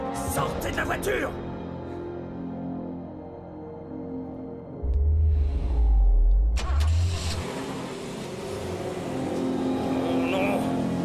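A car in an action film starts up and pulls away, its engine revving loudly over a rumbling low end, with people shouting in French before and after.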